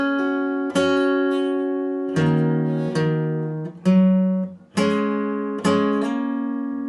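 Electric guitar playing a song intro slowly: ringing double stops and a hammer-on, with a handful of plucked chords sustaining and overlapping, each struck note decaying before the next, clean and close with no voices.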